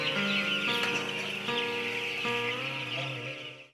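Chickens at a poultry farm in Varanasi cluck and peep continuously in a dense, steady flock chorus, close and fairly loud, with no voices.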